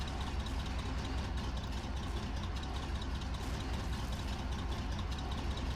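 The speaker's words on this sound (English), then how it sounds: "Oh, that engine." Tank engine in a Battle of the Bulge scene in a war video game, idling in a constant deep, rumbling drone with a faint knocking texture that holds steady throughout, with no talk.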